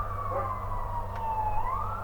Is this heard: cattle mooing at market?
no